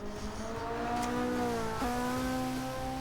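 A sports car engine drives past at speed, a steady rising tone that jumps in pitch midway as the car shifts gear, with road and wind noise underneath and no talk.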